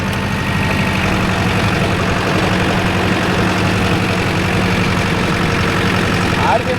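Mahindra 605 S tractor engine running under load with a rotavator fitted with new LJF blades, a loud, steady low rumble that stays constant throughout and sits close.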